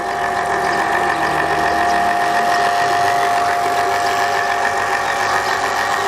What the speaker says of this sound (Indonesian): sambil kita lihat pompa ini beroperasi